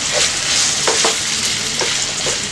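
Minced mutton with masala frying in a pan over medium flame, a steady loud sizzle with a few spoon-stirring scrapes, no talking.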